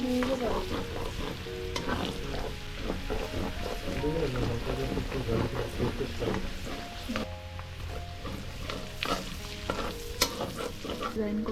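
Onion and chili fry in butter with garlic for fried rice, giving a constant sizzle broken by repeated scraping stirs of a utensil in the pan, with a voice speaking faintly beneath.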